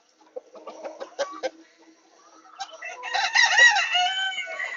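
Backyard chickens give a few scattered clucks, then a denser stretch of overlapping clucking and crowing-like calls builds and holds near and fairly loud.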